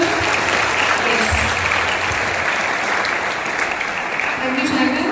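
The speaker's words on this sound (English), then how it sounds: "Can we give a big clap to her?" An audience of schoolchildren claps for a student, a loud, dense and sustained round of applause with faint voices mixed in beneath it.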